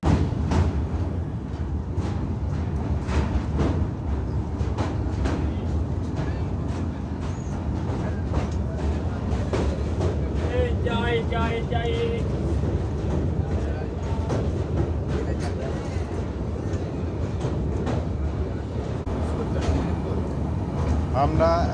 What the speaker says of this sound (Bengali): বিয়াস নদীর ওপর দিয়ে ট্রেন যাচ্ছে এখন।